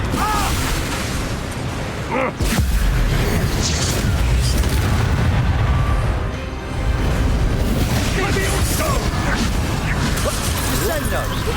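A Confringo spell blast in Hogwarts Legacy gives heavy booming explosions and crashes that dominate a dense, loud game mix, with a short dip midway before the roaring continues.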